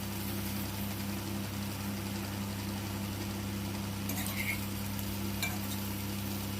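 Spices being stirred into banana slices frying in a pan, a steady soft sizzle with scraping stir sounds over a low constant hum, a few brief clinks near the end.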